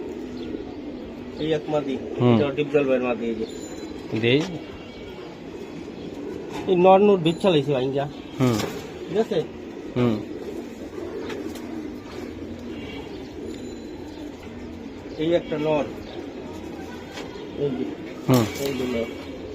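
Giribaz pigeons coo in repeated throaty bursts at close range, with people talking throughout and the calls rising between their voices.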